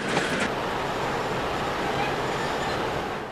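An electric passenger train on Britain's first electrified main line, running on a 1500-volt DC system, passes eastbound in 1954 archive footage, with a steady broadband rumble and rush of wheels throughout.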